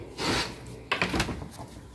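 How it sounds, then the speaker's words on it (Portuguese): A back door of a house is opened: a brief wooden scrape, then a clunk and rattling rub as it swings, close by and clear with no talk. "deixa eu abrir aqui a porta do fundo"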